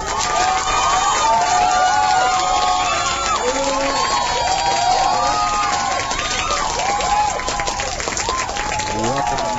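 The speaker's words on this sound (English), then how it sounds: "we hear some fake victory claps I got in from the sound effects list" Canned victory applause from a sound effects list plays loud and continuous, a dense crowd clapping and cheering with excited shouts layered throughout.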